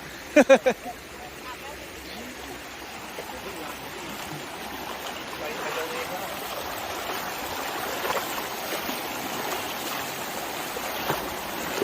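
Steady rushing of flowing stream water fills the scene, a continuous wash with a few sharp knocks near the start.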